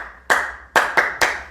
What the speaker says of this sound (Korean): 여러분 칭찬 박수 아세요? 칭찬 박수.